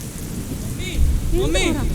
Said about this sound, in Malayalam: ഭയങ്കര ഇടിയും മഴയൊക്കെ